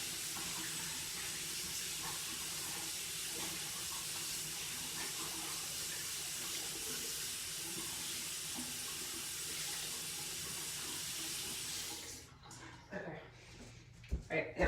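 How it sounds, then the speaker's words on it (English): A makeup sponge is rinsed under a running tap, with a steady close hiss of water flowing into a sink for about twelve seconds before it shuts off, followed by a few handling clunks. "just gotta rinse my sponge"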